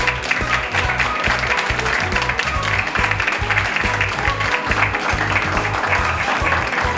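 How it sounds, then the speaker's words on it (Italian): Audience at a pinsa show restaurant event applauding: dense, sustained clapping from many hands, loud and close, with a rhythmic beat running underneath and no talk over it. "Applausi."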